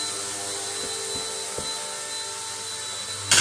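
Small RC helicopter rotor whirring steadily as it lifts off, a constant high buzzing whine with a few faint clicks and a brief louder burst at the end.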